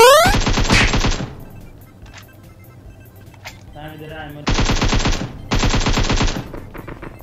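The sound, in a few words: gunfire from a gun in a video game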